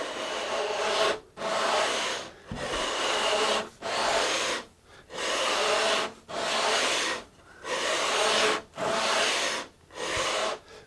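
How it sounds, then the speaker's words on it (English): A large sanding beam is pushed back and forth along a guitar fretboard clamped in a vise, about nine steady rasping strokes with short pauses between them, close and alone. "now let's try this beast of a sanding beam"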